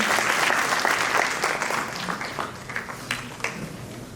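Loud crowd applause fills a ceremony hall at an education department appointment letter distribution, dense clapping that gradually thins toward the end, with a little murmuring underneath.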